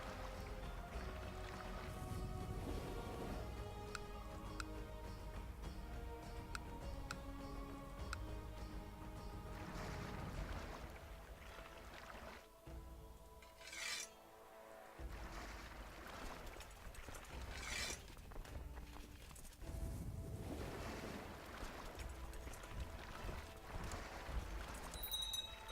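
In the strategy game Crusader Kings 2, boats move over ocean waves, a continuous watery wash with sloshing swells layered under steady game music for the whole stretch, without speech.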